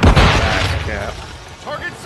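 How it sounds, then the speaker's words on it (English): A flash grenade goes off in a video game, a loud, close boom at the start that fades into a rumbling tail, with a brief voice-like sound near the end. "Throwing flash grenade."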